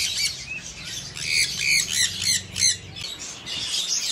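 A male yellow-ringneck parakeet gives a run of harsh, shrill squawks in quick succession, close and loud, over a steady background hum with no talk.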